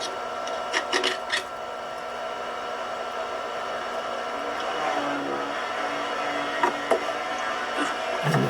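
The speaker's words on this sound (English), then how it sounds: "You can hear somebody outside the boat grinding on the hull." A power grinder works on a boat hull in a boatyard, whining steadily outside and muffled through the hull, with a few sharp knocks and clanks closer by.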